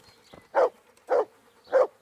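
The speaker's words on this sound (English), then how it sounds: "See, this is how a dog barks." A dog barks in the medieval video game Kingdom Come: Deliverance, three evenly spaced short woofs about half a second apart, clear and close over a quiet background.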